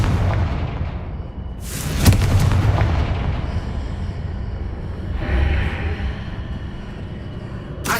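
Confringo spell blasts in the video game Hogwarts Legacy, fired to clear a pillar blocking the path: two heavy booming explosions with sharp cracks, each trailing off into rumbling decay, and a third burst starting at the very end.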